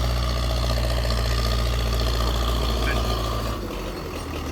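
An MTZ tractor working with a plough gives a loud, steady diesel drone close by, then eases slightly near the end. The engine runs on alone with no voices.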